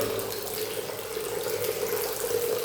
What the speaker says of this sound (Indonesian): Nah, nanti airnya akan ngalir ya